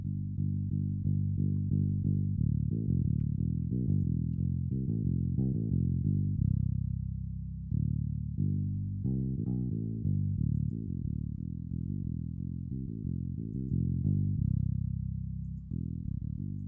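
Bass guitar with DI and amp signals blended, playing a continuous melodic line of deep, round notes with a firm low end, steady and unaccompanied.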